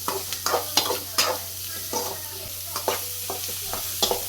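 Onions frying in hot oil, with a row of sharp spoon scrapes and stirring bursts over a faint low hum, fairly quiet and close, no one talking.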